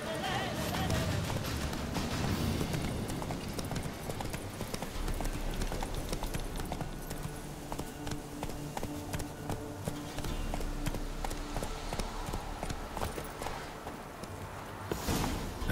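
Roach the horse's hooves clip-clopping steadily on the ground in The Witcher 3: Wild Hunt, at a walking pace, close and clear with a faint game soundscape beneath.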